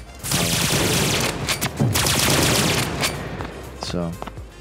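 Automatic gun firing in an Unreal Engine 4 game, loud rapid bursts of shots with brief gaps, a voice talking over parts of the fire.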